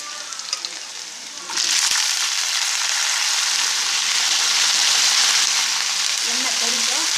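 Quiet kitchen noise, then a sudden burst of loud sizzling as eggplant hits hot oil, hissing steadily from close by.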